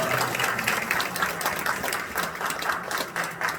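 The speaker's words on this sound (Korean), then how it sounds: "박수 고맙습니다." Church congregation applauding at an outdoor worship service, a steady wash of many hands clapping at moderate loudness throughout, with no clear voices on top.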